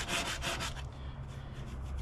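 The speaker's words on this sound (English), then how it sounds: "when you're sanding on a rail ding" Sandpaper rubbed by hand over the rail ding of a surfboard, a steady close-up scratchy hiss with a few rhythmic strokes at the start, then continuous abrasion.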